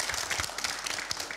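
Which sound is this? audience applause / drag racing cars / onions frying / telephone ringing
audience applause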